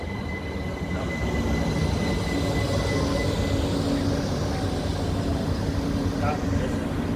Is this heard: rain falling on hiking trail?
no